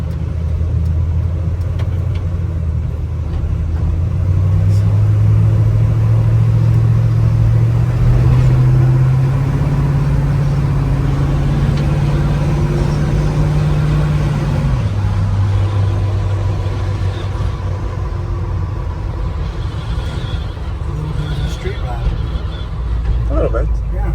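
A 1966 Chevrolet C10 short bed pickup with a 350 V8 and TH350 transmission drives along with a loud, steady engine rumble that rises and shifts in pitch as it accelerates, heard from inside the cab while people talk.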